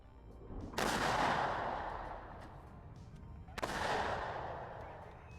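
Two heavy artillery shots in the WARNO strategy game, each a sharp loud crack followed by a long rolling rumble that fades, the second arriving about three seconds after the first.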